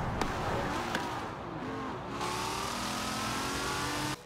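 A sports car in Forza Horizon 4 revs and accelerates hard, its loud engine note climbing through the gears with rising harmonic whine, close and continuous before cutting off abruptly.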